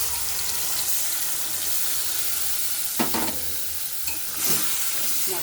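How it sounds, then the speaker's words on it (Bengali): Water swished from a spice bowl into a pan of sizzling pomfret fish curry with tomato and mustard paste, a steady frying hiss broken by a few brief splashes and clinks near the end. "এবার আমি এই বাটির মধ্যে আর একটু জল দিয়ে ধুয়ে এটার মধ্যে দিয়ে দেব।"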